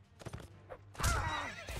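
A horse neighs in Mount and Blade, a loud rising whinny after soft hoof and movement sounds, heard alone and fairly close.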